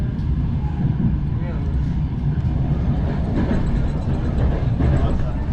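A passenger train on a Lithuanian railway rumbles loudly and steadily as it pulls away, with rail noise, and voices are heard under it.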